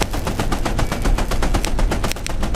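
Automatic turret gunfire in the shooter game Level Zero: Extraction, a loud continuous stream of rapid shots sustained for the whole stretch with no talking.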